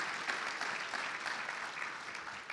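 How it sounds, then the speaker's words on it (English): A tech-summit audience in Scottsdale applauds a founder, a dense, even wash of many hands clapping that holds steady and fairly soft throughout. "Round of applause,"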